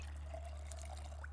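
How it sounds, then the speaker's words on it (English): Water pours and trickles as a bottle is filled in the video game Project Zomboid, a short, faint, steady stream heard alone. "Right, fill water bottle."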